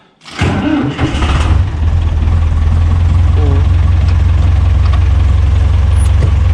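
A tractor engine on a Swiss farm cranks over with a brief rattle, then settles into a loud, steady, low diesel idle that continues close by without a break.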